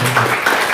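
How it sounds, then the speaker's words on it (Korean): Congregation clapping together at a church service, a dense burst of loud applause filling a brief moment. "우리 박수 한번 환영해 주세요"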